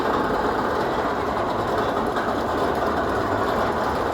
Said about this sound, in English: those guys are going to have another go on the runaway mine train, the El Diablo